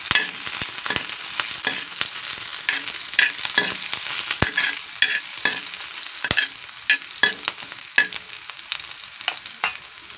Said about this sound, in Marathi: आता हे सगळं भाजून घ्यायचं